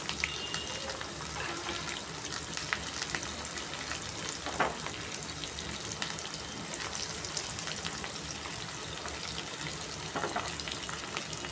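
Onions and curry leaves sizzle steadily in hot oil in a pan, the start of an eggplant fry, making a continuous crackling hiss with a few stirring scrapes, quiet and close.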